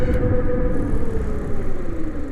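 An electric motorcycle rides along in a smooth, steady low hum with road rumble, continuous and close for the whole stretch, no voices over it.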